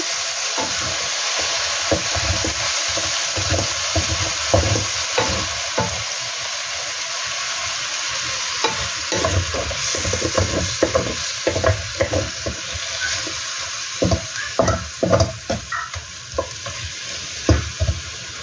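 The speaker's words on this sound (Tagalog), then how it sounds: "Lutuin lang po natin siya sa mahinang apoy." Constant hissing sizzle of chicken frying in a pan over low heat with soy sauce, broken by repeated scraping and stirring knocks that grow busier toward the end.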